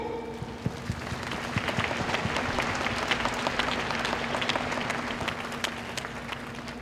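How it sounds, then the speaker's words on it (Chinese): A large audience claps for the graduate representative at Yuan Ze University's graduation ceremony, a long, steady roar of applause with individual sharp claps standing out, swelling slightly midway and holding throughout over a faint hall hum. "我们再一次给毕业生代表热烈掌声"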